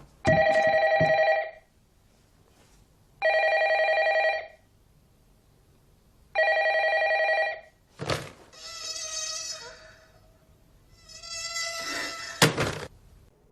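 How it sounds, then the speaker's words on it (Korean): An old telephone rings in a horror film, three evenly spaced electronic rings with pauses between, followed by eerie warbling, shrill tones and sharp hits. "비디오의 재생이 끝나자마자 걸려온 기분 나쁜 전화."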